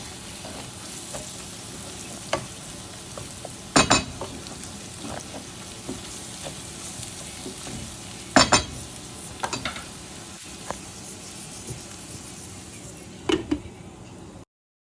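Masala spices fry in a pan for a creamy cheese pasta with chicken and tomato sauce, a soft continuous sizzle broken by a few sharp scrapes and clinks of a spoon stirring against the pan.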